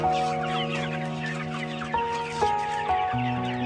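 Chickens in a coop cluck close by, several short pitched calls overlapping in a quick irregular run, with no talk.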